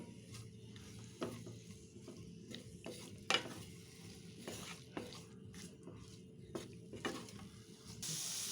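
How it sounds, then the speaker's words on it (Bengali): Mushrooms fry in soy sauce for spicy garlic mushroom, a low, steady sizzle broken by a series of spatula scrapes and taps against the pan at irregular intervals. "এবার সয়া সস দিয়ে খুব ভালো করে ভেজে নিব।"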